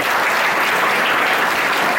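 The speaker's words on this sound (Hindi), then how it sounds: "ताली बजाओ जोर से" A room full of schoolchildren at a senior secondary school in Jaipur applauds loudly and steadily, with dense continuous clapping and no pauses.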